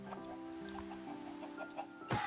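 Chickens in Minecraft, played with the Jurassic Saga mod, give soft, low clucks over a faint steady background hum. A brief louder burst near the end closes the short stretch.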